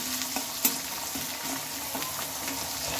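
Carrot pieces and potatoes stirred together in a frying pan: a steady hot sizzle broken by several scraping stir strokes of the spatula against the pan.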